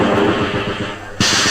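Grenade explosion in a video game war mission: a loud, dense rumbling blast that swells into a sharp fresh burst near the end, filling the short moment.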